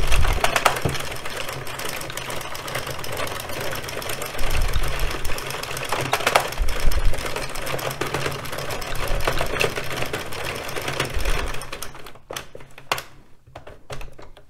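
An addi Express Kingsize knitting machine clatters loudly and continuously as its crank drives rows of a striped hat, a rapid rattling mechanism that thins out near the end into a few scattered clicks.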